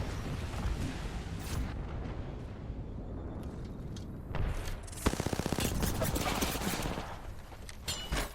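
Gunfire in a match of the Apex Legends video game, with crackling bursts and a rapid automatic volley in the middle set against a busy, noisy background while a commentator talks over it.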